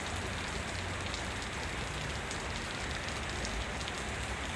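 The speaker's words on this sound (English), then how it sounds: "We're getting light rain right now." Steady light rain in Boston patters continuously on a surface, a dense even hiss with no voices, close and unchanging throughout.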